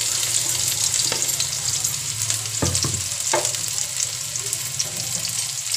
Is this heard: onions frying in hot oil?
yes